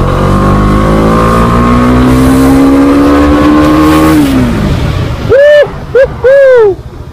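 Yamaha R15 V3 motorcycle pulling hard in third gear on a highway, engine whine rising loud and close for several seconds, then dropping away as short rising and falling engine bursts follow.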